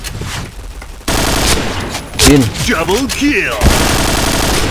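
Rapid bursts of automatic gunfire crack out in a shooting video game, with loud clustered volleys and sharp single shots across a few seconds, while a player talks over the action.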